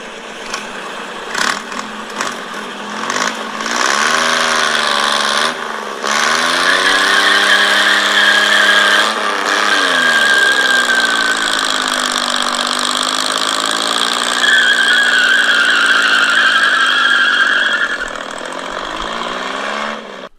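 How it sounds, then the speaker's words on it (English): A winter Batmobile's engine roars loud and steady, its pitch swelling and dipping as the car is floored, with no voices over it. "Batman was driving his winter Batmobile, and then he quickly floors it."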